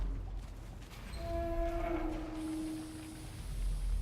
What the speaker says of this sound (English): Not a pig in sight, though we clearly hear them.